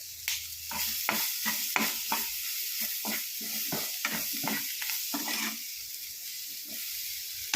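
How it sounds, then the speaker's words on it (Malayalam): Chicken masala frying in a pan in a home kitchen, with bursts of sizzling and repeated stirring scrapes in an irregular rhythm, close and fairly quiet with no talking. "ചിക്കൻ മസാല എല്ലാം കൂടെ ചേർത്ത് വറുത്തെടുക്കുക."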